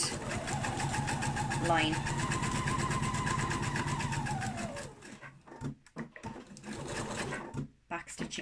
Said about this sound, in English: I've now brought my material to the machine, and I'm just going to do a couple of stitches, back stitch, and go forward